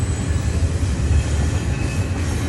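A train rolls past on railroad tracks roughly twenty yards from a campsite along the Appalachian Trail. Its loud, continuous rumble and rattle of wheels fill the whole stretch with no voices.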